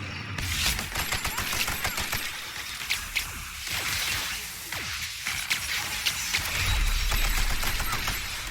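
Reprogrammed robots trade gunfire in The Outer Worlds, a dense, continuous stream of sharp cracking shots and whipping energy bursts, loud and close, with no pause throughout.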